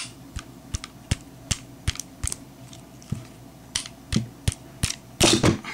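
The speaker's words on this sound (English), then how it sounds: "tap the upper part of this frame. I'm just going to use my my fist here." A fist bumps the upper frame of a Ruger MK II pistol, giving a series of sharp, close knocks at irregular intervals, growing busier and louder toward the end.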